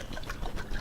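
Liquid sloshes briefly as a bottle of blue coconut water drink is shaken, a quick faint gurgle with no voices.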